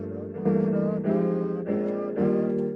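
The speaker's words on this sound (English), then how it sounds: "So at the piano, it sounds like this." A sequence of rich piano chords struck one after another, each ringing out warmly before the next, four in a slow, even progression.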